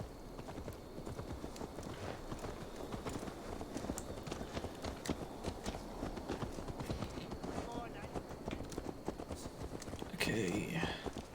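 Horse hooves clip-clop steadily in Assassin's Creed Valhalla, a dense run of hoofbeats under a busy game soundscape, with a brief burst of other noise near the end.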